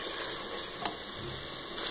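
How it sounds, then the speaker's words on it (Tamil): Oil sizzling steadily in a pan while onions and spices are sautéed for a Tamil-style brinjal biryani, a close continuous frying hiss with a faint tap near the middle, no talk. "நல்லா பச்சை வாசனை போகத்தட்டியும் கொஞ்சம் வதக்கி எடுத்துக்கோங்க. இந்த எண்ணெயிலே"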